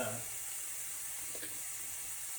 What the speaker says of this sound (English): Go ahead and let that caramelize, cook down the onions, make them translucent